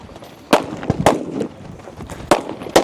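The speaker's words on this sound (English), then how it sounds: "12 shots here with their pistol, about 18 yards out." Pistol shots ring out on a stage of a regional shooting competition, four sharp cracks spaced irregularly over a few seconds, with some ambient outdoor noise between them.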